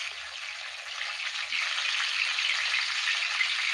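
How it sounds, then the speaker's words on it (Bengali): Battered Bombay duck fish fry in hot oil with a continuous bright sizzle that grows a little louder partway through as more pieces go in, with a few faint low knocks beneath and no speech. "মাছগুলো ঠিক ব্যাটারের মধ্যে ঠিক এইভাবে মাখিয়ে একে একে আমি তেলের মধ্যে দিয়ে দেবো।"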